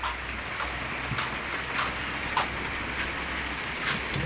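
Rain comes down outdoors in a steady, fairly loud hiss, with scattered brief drop impacts and no speech.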